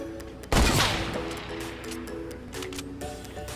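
A sudden burst of Fortnite gunfire breaks into a loud, dense blast that trails off into a sustained rumbling wash, with faint game sounds underneath.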